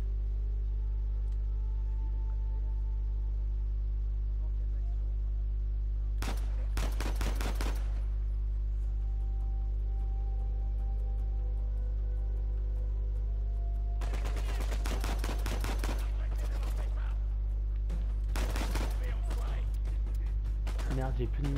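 Bursts of video game gunfire in Uncharted 4, with a short volley followed by two longer rapid clusters of shots over a steady low background hum, with a player's voice faintly present.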